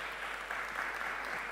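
An audience applauds steadily to welcome a speaker onto the stage, a brief, even wash of clapping heard a little distant, with no voices over it.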